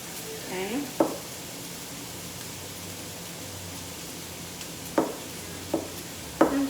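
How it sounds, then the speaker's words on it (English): Onion frying in a pan hisses softly under a steady sizzle, with a few sharp clinks and scrapes of stirring, close and fairly quiet. "Let's give this onion a little stir here."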